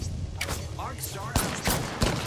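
Video game gunfire rings out in several sharp, loud bursts spread through a short stretch, mixed with a player's voice talking over the shots.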